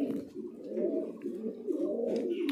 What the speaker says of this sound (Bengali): এখানে একজন লোটন আছে